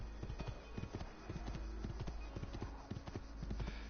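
Horse gallops in the Assassin's Creed video game, its hooves clip-clopping in a rapid, steady rhythm over a low rumbling background, fairly quiet and close throughout.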